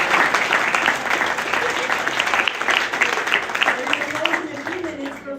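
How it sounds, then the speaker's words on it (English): An audience at a Capitol Hill genocide commemoration applauds itself, sustained loud clapping that thins toward the end as a voice starts to come through. "so give yourselves a round of applause"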